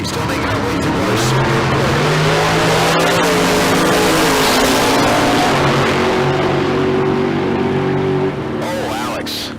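Drag racing cars, including a topless Corvette, launching and racing down the strip, a loud continuous engine roar with shifting pitch as they accelerate, while a voice talks over it.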